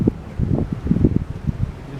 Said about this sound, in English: It's cold and windy out here today.